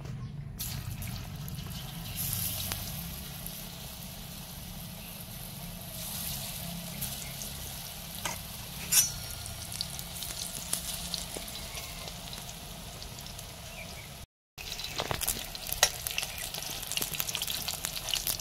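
Soybean chunks frying in hot mustard oil in a wok in a home kitchen, a steady close sizzle with occasional stirring clinks and scrapes, briefly cut out near the end before resuming.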